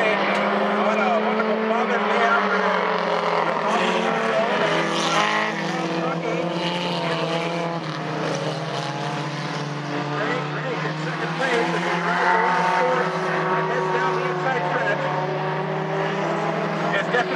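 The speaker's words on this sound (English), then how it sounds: "This is our main event for the Fever Force here at the Northport International Raceway." Race cars roar around the track during a main-event race at Northport International Raceway, a steady distant engine drone holding throughout with an announcer talking over it.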